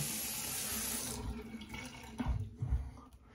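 A tap runs during the rinse of a wet shave: a steady, fairly quiet stream at first, then it breaks into brief splashes and rubbing as water hits the sink.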